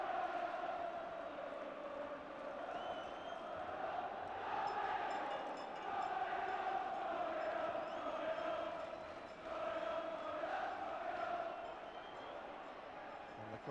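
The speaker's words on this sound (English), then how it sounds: "The cry from the crowd is now we're going up." Football crowd at a stadium during stoppage time of a Newcastle United–Charlton Athletic match, a broad sustained roar of many voices rising and swelling in chant-like waves, steady and dense throughout with no clear gaps.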